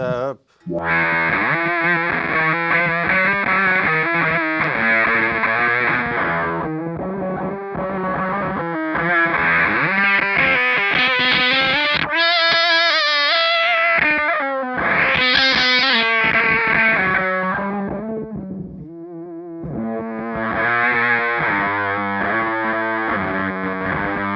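A harsh, buzzing synth sawtooth tone through a pedal in chaos mode, warbling and shifting pitch with gritty distortion, loud and continuous.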